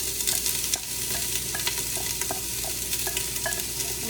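Carrots sautéing in a pan give a steady sizzling fry, with repeated light clicks and scrapes of stirring across the pan throughout.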